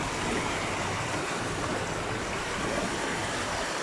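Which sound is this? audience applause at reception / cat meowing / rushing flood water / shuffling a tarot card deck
rushing flood water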